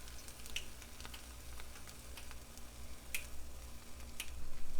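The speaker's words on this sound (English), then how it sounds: "Now we will need to put the pancake in the pan" A pancake cooks in a frying pan, giving a faint, steady sizzle with a few sharp ticks and pops scattered through it and no voices.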